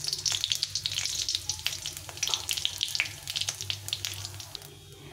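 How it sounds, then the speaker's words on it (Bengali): A dried red chilli and cumin seeds splutter in hot mustard oil, crackling with sharp, rapid pops over a close sizzle that eases off near the end; nobody talks. "তেলটা গরম হয়ে গেছে, একটা শুকনো লঙ্কা ফাটিয়ে দিলাম আর কিছুটা পরিমাণ জিরে"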